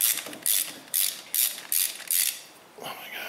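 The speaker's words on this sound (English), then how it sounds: "we'll take the bolt out that goes in the bottom of it here" A hand ratchet clicks in six quick, evenly spaced bursts as a bolt is backed out from the bottom of a Dodge Dakota transmission, close up, followed by a softer rattle.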